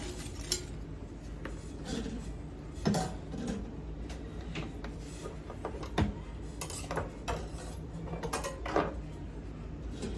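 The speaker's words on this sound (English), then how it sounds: "Let's get some tongs to mix this around" Tongs toss sliced Gala apples with lime juice in a bowl, giving soft repeated clinks and scrapes over a low background hum, with no speech.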